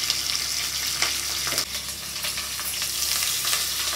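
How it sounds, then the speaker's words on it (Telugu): Curry leaves and a pinch of asafoetida crackle in about two spoons of hot oil with mustard seeds, a busy sizzle broken by sharp pops and spits, close and fairly loud, with no talking. "ఇది కూడా ఆవాలాగే చిట్టపట్ట సౌండ్ వస్తుంది"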